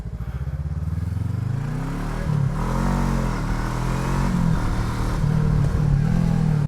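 Voge 500DS (Loncin DS7) motorcycle exhaust, a 2020 bike, revving close by: a low steady idle rises into repeated throttle blips and sustained high revs, loud and alone with no talk.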